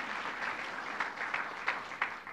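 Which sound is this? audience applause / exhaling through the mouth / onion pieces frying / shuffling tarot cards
audience applause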